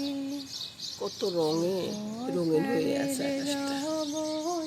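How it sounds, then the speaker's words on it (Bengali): Birds chirp, whistle and coo close by outside a house window, with clear repeated tuneful calls under a person talking quietly. "পাখির কিচিরমিচির ডাক"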